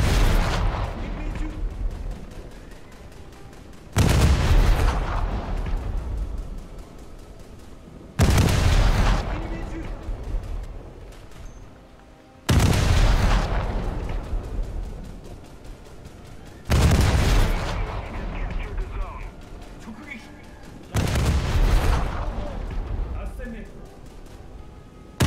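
Naval cruiser guns firing HE shells in a video game, six heavy booming salvos spaced about four seconds apart, each with a long rumbling decay.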